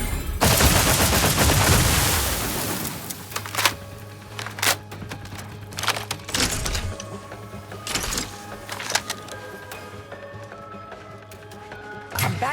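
Sci-fi gunfire in The Outer Worlds: a dense roar of shots for the first two seconds, then separate sharp cracks and short bursts spaced through the rest, loud and close over a low steady hum.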